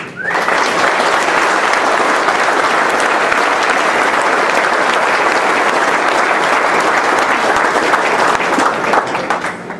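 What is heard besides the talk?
audience applause for the KA-RaceIng team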